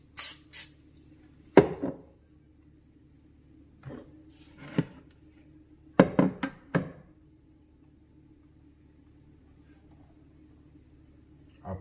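Several short hissing bursts of cooking spray onto a small glass bread pan, separated by pauses, with light clicks and taps of handling the pan nearby; fairly quiet overall.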